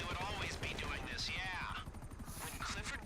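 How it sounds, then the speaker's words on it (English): A helicopter in a video game, its rotor thumping in fast, even pulses under excited voices and other game noise. "I can't shoot that chopper."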